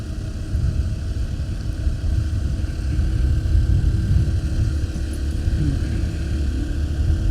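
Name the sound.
motorcycle speeding up a hill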